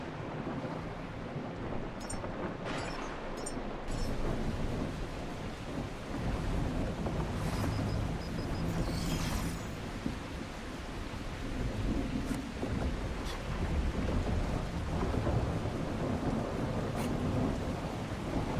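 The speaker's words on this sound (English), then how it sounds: "I feel like the storm frequency in this game has been cranked up." Steady downpour and rolling thunder fill a video game thunderstorm, broadband rain hiss running throughout with low rumbles and occasional brighter cracks, no voices.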